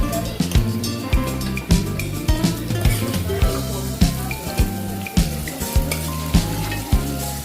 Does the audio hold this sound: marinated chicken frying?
yes